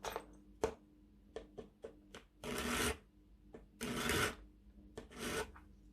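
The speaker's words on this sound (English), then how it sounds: "Just need to rub the file on that." Metal file rasping against a plastic part from a Tamiya King Hauler model kit, close and quiet: a series of short scrapes followed by three longer strokes, with brief pauses between them.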